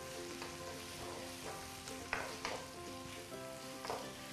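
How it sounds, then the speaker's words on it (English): Onions fry in a pan with a continuous soft sizzle while a utensil stirs them, scraping with a few sharper knocks. No one speaks. "I'm gonna give a stir."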